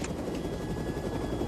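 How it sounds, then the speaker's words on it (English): A helicopter in flight fills the whole stretch with a steady, loud rotor and engine roar, dense and continuous, with no voices over it. "I want you to land this helicopter."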